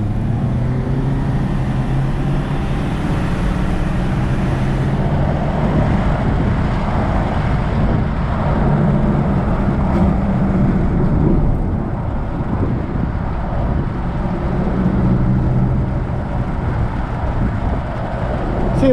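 A Nissan Rogue drives along after a spark plug and ignition coil replacement, its engine and road rumble steady and close inside the cabin, with wind noise and no speech.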